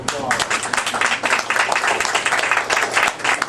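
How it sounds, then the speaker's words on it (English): An audience at a county justice of the peace's gathering applauds, a dense, even patter of many hands clapping that holds steady throughout. "So give yourselves all a round of applause."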